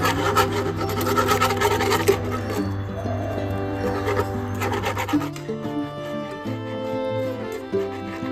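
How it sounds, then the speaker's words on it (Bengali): A whisk stirs powdered milk into liquid milk in a bowl, giving steady rapid scraping and swishing for several seconds, close and continuous, with a low hum underneath. "আর একটা হুইস্কারের সাহায্যে ভালো করে মিক্স করে নেব।"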